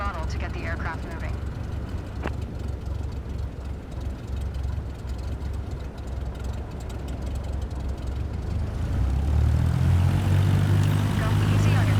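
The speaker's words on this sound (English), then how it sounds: "Now, gently increase throttle to get the aircraft moving." A propeller aircraft engine in Microsoft Flight Simulator 2024 drones steadily, then builds into a louder, fuller roar near the end as the throttle comes up for taxi.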